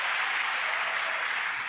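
Applause from a huge crowd, 10,942 hands clapping at once: a dense, steady wash of clapping that holds at an even loudness throughout with no voices on top.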